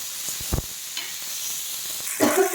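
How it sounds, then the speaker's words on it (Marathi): Peeled garlic cloves sautéing in oil in a pan, a soft steady sizzle with a few sharp spatula scrapes and clinks, then a louder, brighter burst of frying near the end, heard close with no talking. "त्याला पण चांगलं परतून द्यायचं आहे आपल्याला तेलावर."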